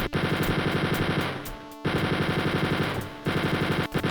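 Rapid automatic gunfire from a video game first-person shooter, aimed at the episode 1 final boss, rattling loudly in sustained bursts with two brief pauses, no talk over it.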